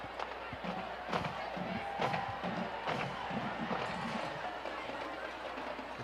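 A big crowd roars and cheers in the stands of a high school football stadium, a steady wash of voices with louder swells, heard from up in the press box.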